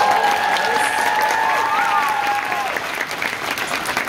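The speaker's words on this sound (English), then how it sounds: "Let's give them a huge round of applause." Loud audience applause for bookstore partners at a library author event, dense clapping with some cheering, and a voice briefly heard over the noise as it fades slightly.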